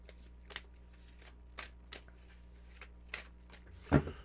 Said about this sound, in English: Let me do a cleansing shuffle first